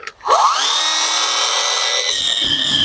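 A Worx WG349E electric pole saw cuts a 10 cm branch about 3 metres up. The motor spins up quickly into a loud, steady, high whine that holds for several seconds, with a faint rougher rasp toward the end.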